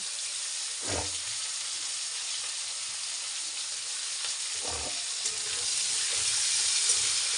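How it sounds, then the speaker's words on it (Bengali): Potatoes fry in hot oil with spring onions waiting to go in, giving a steady, close sizzle with a couple of stirring scrapes and a slight swell toward the end. "এই এবার পেঁয়াজ কলি আলুটা ভাজছি।"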